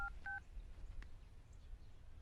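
Two quick telephone keypad tones beep faintly at the start, followed by quiet background hiss and soft noises.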